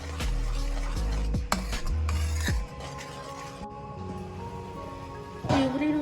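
Pasta sauce puree bubbles and spatters as it is stirred over a high gas flame, with a few spoon-against-pan knocks and splashes in the first seconds.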